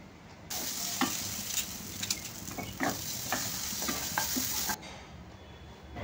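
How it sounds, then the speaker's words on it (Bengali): Dalia (broken wheat) fries in ghee over medium heat with a continuous soft sizzle, overlaid by irregular scraping and clinks of a spatula stirring in the pan, quiet and close, no voices. "মিডিয়াম আঁচে ডালিয়াটাকে 5 থেকে 6 মিনিট ভালো করে ভেজে নিতে হবে"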